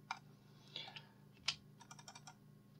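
Quiet typing on a computer keyboard during furniture design modeling, with a few scattered key presses followed by a quicker run of clicks, close and soft, with no speech.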